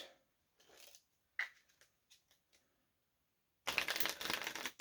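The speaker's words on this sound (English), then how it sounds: "Give the deck a nice little cut." A deck of cards being cut and handled, a series of soft, separate riffles and taps, then one loud sustained riffling burst near the end, close by with no talking.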